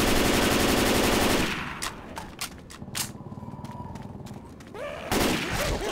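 Left 4 Dead 2 gunfire opens with a dense burst of rapid automatic fire, then breaks into scattered single shots and clicks before another loud volley near the end.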